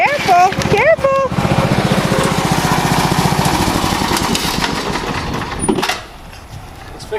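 Big green tractor engine running close by with a loud, steady rumbling chug, while a voice and an adult talk over it early on; the engine noise drops away sharply near the end.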